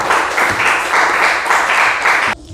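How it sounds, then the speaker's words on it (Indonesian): Classroom applause for a student group during an Islamic studies lesson, steady dense clapping from many hands that stays loud and continuous before cutting off abruptly near the end. "kita berikan tepuk tangan untuk kelompok"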